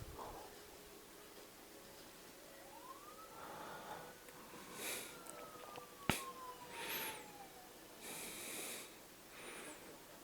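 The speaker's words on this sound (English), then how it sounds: "And this police car skidding all over the place." A police car siren wails in a film street scene while the car skids around, the siren rising and falling with a sharp tire screech and a brief impact, heard at a distance without speech.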